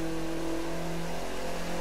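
Revving engine of a car drifting in The Crew 2 racing game, a sustained, even mid-pitched roar held at a steady loudness throughout with no voices over it.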